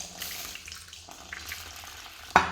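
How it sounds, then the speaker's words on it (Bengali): Heated water poured into a salted cooking mixture, a soft steady trickling and splashing that ends in one brief louder splash near the end. "এবার আমি দিয়ে দেবো এতে গরম করে রাখা জলটা"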